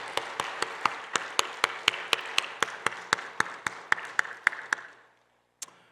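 Church congregation clapping together in thanks for a choir and praise team at a year-end Sunday service, about five seconds of steady rhythmic applause that stops, followed by one final stray clap.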